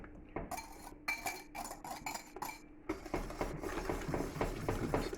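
A spoon stirs a lemon posset mixture made with citric acid instead of lemon, giving quick irregular clinks and scrapes against a bowl, close and fairly quiet, with no talking.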